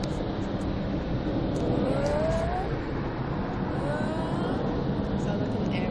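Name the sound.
aeroplane passing overhead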